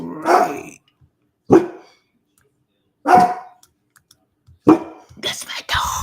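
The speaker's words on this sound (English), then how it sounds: "That's my dogs." Dogs bark in loud, separate bursts, four or five sharp barks spaced about a second or more apart, close by, with a brief growl-like noise at the end.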